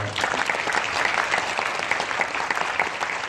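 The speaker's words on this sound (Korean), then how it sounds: "너무 멋진 영화에 대한 대답을 들려주신 전종서 배우님께 박수 한번." A cinema audience at a film talk event for Mona Lisa and the Blood Moon gives an actress steady, even applause, a continuous wash of many hands clapping at a moderate level.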